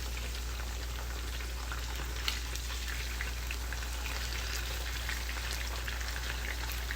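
Chicken thighs frying in a pan, an even, continuous crackling sizzle like light rain, steady and moderately close with a low hum underneath and no talk.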